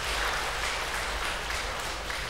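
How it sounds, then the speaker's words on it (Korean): Steady, dense applause from a church congregation for a certificate presentation honouring a parishioner who hand-copied the Old and New Testaments, a continuous wash of many clapping hands filling the room with no voices over it. "큰 박수 부탁드리겠습니다"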